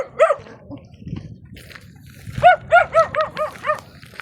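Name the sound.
dog barking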